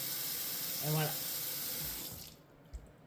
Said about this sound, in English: So we want to turn on the cold water. We want to fill the bowl up with water